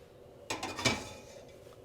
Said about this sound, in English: So now we're gonna get this on the stove